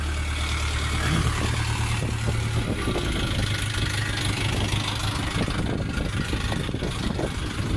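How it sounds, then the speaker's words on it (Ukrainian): A Lovol 354 Plus tractor with cab idling on a sales lot, a steady, loud, even engine drone running without pause. "Шикарний тракторець."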